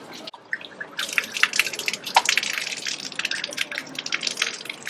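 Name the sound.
water running from a public drinking fountain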